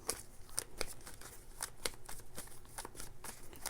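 Tarot cards being shuffled by hand during a reading, a close run of crisp riffling flutters and soft snaps repeating in quick bursts, with no voices.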